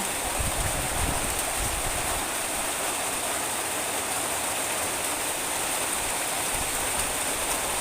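Steady, dense hiss of heavy rain pouring down continuously in a rubber plantation, close and loud, with no voices.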